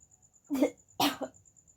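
Two sharp coughs in quick succession, close and fairly loud, against a quiet room with a faint steady high whine.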